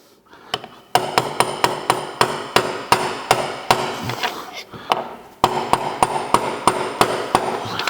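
A chainsaw bearing is tapped into place through a socket with a hammer: sharp metallic knocks, close and loud, coming in quick regular runs with a short pause midway.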